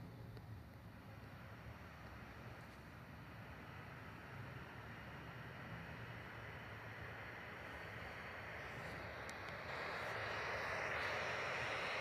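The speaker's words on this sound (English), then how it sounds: "the engines are slowly starting now" Airliner jet engines spool up in the flight simulator game Infinite Flight, a steady broadband roar and whine that slowly builds and swells louder toward the end, with no talk.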